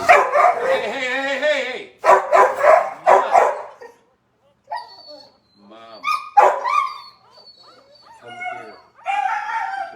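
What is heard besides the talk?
dogs barking and whimpering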